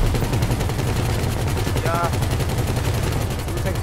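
Sustained rapid gunfire from a heist mission in GTA5, a dense machine-gun clatter running continuously and loud throughout, with a brief shout cutting through the shooting.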